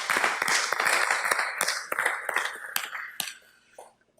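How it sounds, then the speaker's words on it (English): Audience clapping at a political journalism symposium during a mock meeting with a mayor, a short round of sharp, fairly close claps that thins out and fades over about four seconds. "Let's give Omar a round of applause"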